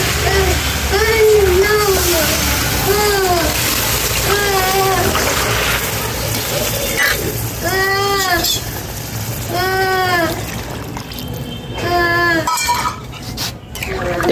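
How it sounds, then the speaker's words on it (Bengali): Water hits a hot pan of fried fish and radish with a sizzling hiss that runs throughout, while someone talks over it. "এবারে আমি এতে জল দেবো।"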